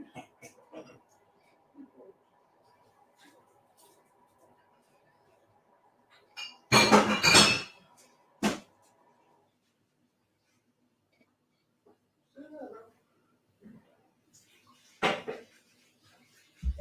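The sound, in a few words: washing out a glass, clinking dishes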